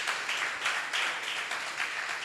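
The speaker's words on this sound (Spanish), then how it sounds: "den un aplauso al Señor si lo crees." A church congregation applauding during an anniversary service, giving a soft, steady wash of clapping at moderate distance that pulses slightly over a couple of seconds.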